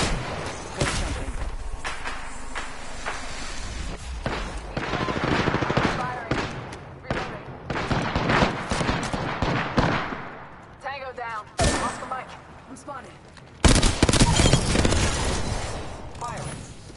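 Rapid bursts of automatic gunfire and single shots crackle through a shooter video game firefight, nearly continuous with loud volleys and brief lulls, while players talk over the action.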